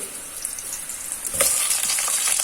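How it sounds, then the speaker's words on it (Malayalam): Chopped garlic sizzles in a hot pan, a bright crackling hiss that jumps louder partway through as more goes in, with scraping stirs over the frying. "കുറച്ച് വെളുത്തുള്ളി വാട്ടിയെടുക്കാം"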